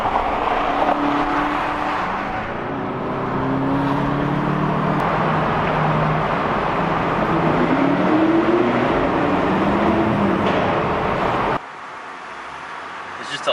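Volkswagen GTI Mk7.5 in heavy Boston traffic, picked up from inside the cabin: a steady low engine drone with gentle rises and falls in pitch as it moves, continuous throughout and cutting off sharply near the end.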